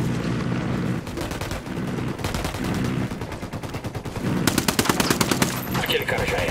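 Rapid video game gunfire, bursts of automatic shots and single cracks in a combat mission, loud and dense with heavier volleys near the end, over a constant background rumble.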